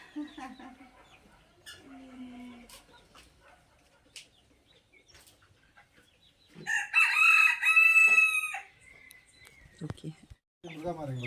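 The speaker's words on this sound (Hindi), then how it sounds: "और उधर मुर्गा बांधा हुआ है" A rooster crows loudly partway through, a long wavering call, with people talking quietly before and after it and some background bustle.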